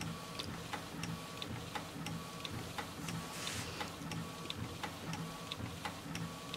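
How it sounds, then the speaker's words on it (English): An inkjet printer prints slowly, with a steady, regular train of mechanical clicks and ticks over a low running hum, heard alone at close range. "This is printing slow."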